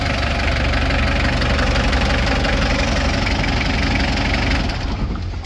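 Mitsubishi 4D56 diesel engine idling steadily and quietly at close range, with an even low rumble and no other sounds.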